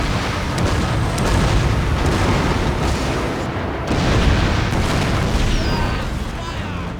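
Cannon fire during a naval battle in the video game Total War: Shogun 2, heavy overlapping booms forming a dense, loud, continuous barrage throughout with no pauses, like a battle soundtrack mix.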